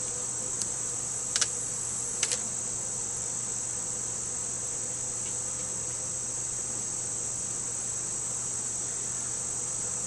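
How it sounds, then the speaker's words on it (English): Honeybees buzzing steadily and densely throughout a hive inspection after a flood, a constant close hum with a couple of brief clicks early on and no talking. "so there's still lots of bees there."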